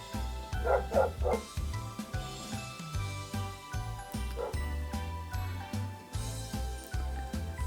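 A dog barks repeatedly in quick bursts nearby, with a faint jingling of tags, over a steady low background hum.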